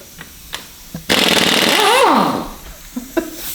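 An Earthquake XT impact wrench hammers loose the 18mm crank bolt on a Ford 4.6L 4-valve engine in a single loud, close burst of about a second and a half, then winds down, with faint clicks before and after.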